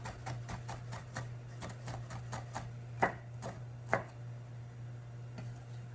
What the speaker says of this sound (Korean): 껍질 쪽이 밑으로 가도록 썰어주면 썰기가 미끄러지지 않고 잘 썰어집니다.